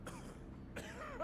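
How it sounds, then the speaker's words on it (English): Coughing from addicted NPCs in the Skyrim Lorerim mod, heard as two short, rough coughing bursts, one at the start and one near the end, over a low steady background rumble. "You hear the coughing?"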